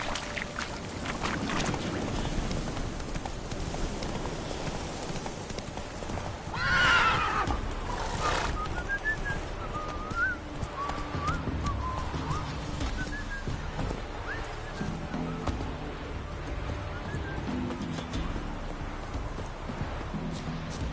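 Horse hooves clip-clop in The Witcher 3 as the mount is spurred to a gallop, with a whinny partway through, all under steady game music and ambient background sound.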